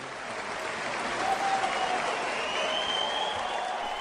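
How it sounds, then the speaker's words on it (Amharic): A long, steady round of applause from a large audience at a speech, with many hands clapping together in a dense, even wash that swells slightly partway through. "ረጅም ጭብጨባ"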